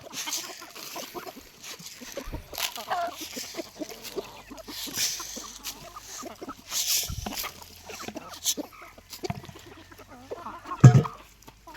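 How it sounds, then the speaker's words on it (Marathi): A fighter-breed rooster and Kadaknath hens kept with pure village chickens on a Konkan backyard poultry farm in Ratnagiri, giving scattered, intermittent clucks at close range, with a person talking at times. "हा एक फायटरचा कोंबडा आहे ही एक कडकनाथ कोंबडी आहे"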